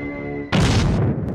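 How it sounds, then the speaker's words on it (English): A sustained tonal hum cuts abruptly into a loud, broad booming blast that roars for about half a second before dropping away. "Doesn't that explosion sound familiar?"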